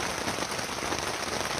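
Steady rain falling in a gray, wet mountain setting on the Appalachian Trail, a dense continuous patter that stays even throughout, with no voices.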